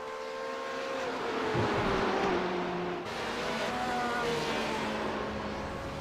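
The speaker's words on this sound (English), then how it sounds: "And the Corvette is hot on the heels of the BMW." Corvette and BMW race cars run at Road Atlanta in a vintage race, engines droning steadily with rising and falling pitch as they pass, heard at a moderate distance.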